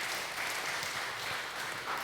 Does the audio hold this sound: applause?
yes